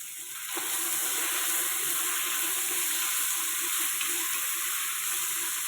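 Onions and tomatoes sauté in a pan for a Tamil kulambu, giving a steady, close, even sizzle that holds throughout with no talking.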